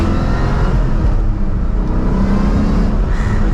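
A 500HP Mustang with a Matco racing clutch accelerates, its engine droning loud and close with a steady whine layered over the deep road and engine roar throughout.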